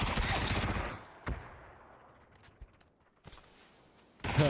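An M4 rifle in PUBG fires a loud automatic burst, then a long echoing decay broken by a few isolated distant shots, and a final burst closes the clip.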